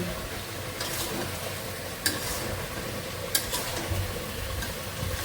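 Fish coated in spices frying in a pan, a steady close sizzle with a few brief clinks of a utensil against the pan.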